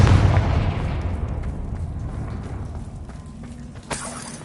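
A Confringo explosion spell bursts in a Hogwarts video game, a loud booming blast that rolls off and decays over several seconds, followed by a smaller sharp impact near the end.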